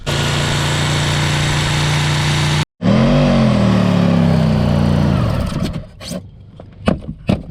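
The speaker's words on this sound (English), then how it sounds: "The Sawzall is working real well. It cuts through like butter" Sawzall reciprocating saw cutting rigid foam board, a loud close motor whine that stops briefly, restarts and winds down, followed by scattered knocks and handling sounds.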